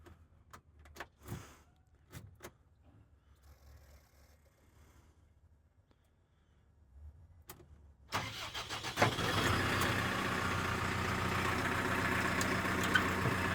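A JCB 507-42 7,000 lb diesel telehandler forklift starts up after a few quiet clicks and thumps, then its engine settles into a loud, steady idle rumble close by.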